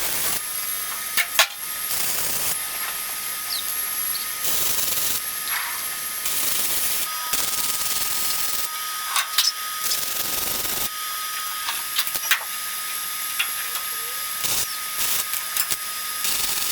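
Short bursts of welding on the body of a 1962 VW Double Cab under restoration, a loud, steady crackling hiss that starts and stops every second or two, close by, with no talking.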